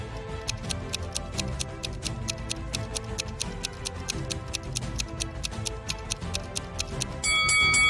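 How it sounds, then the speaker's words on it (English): Steady, regular clock-like ticks repeat evenly and fairly loud over a low musical bed, with a brighter chime entering at the very end, a countdown timer in a riddle game. "the timer goes on ticking"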